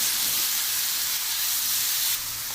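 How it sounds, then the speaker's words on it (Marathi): Eggplant slices stirred into hot spice masala in a pan give a steady, close sizzling hiss that holds evenly and drops slightly at the end. "आता आपण ह्याच्यात वांगे टाकून घेऊया, जे उभे काप केले ते. परत एकसारखं हलवून घेऊया."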